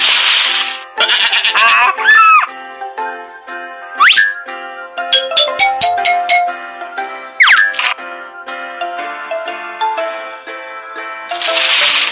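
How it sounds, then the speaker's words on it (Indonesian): A ram, horns caught in a thicket, bleats in repeated wavering cries over a musical backdrop of chimes and tinkling tones, loud and close throughout. "Ada domba jantan yang tanduknya tersangkut di belukar."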